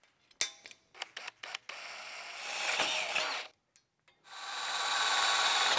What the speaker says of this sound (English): Now I just need to drill some holes in it